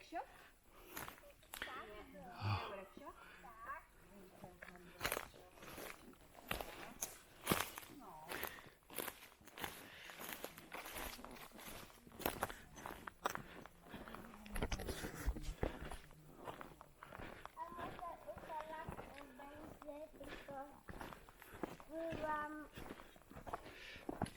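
Footsteps crunching along a mountain trail on a multi-day hike, steady irregular steps close to the microphone, with people talking intermittently over them.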